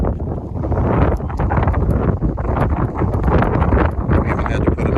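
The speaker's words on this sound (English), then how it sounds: "It's pretty windy out here." Strong wind buffets the microphone outdoors at a shooting range, a loud, continuous low rumble and roar that rises and falls in gusts, with someone talking over it.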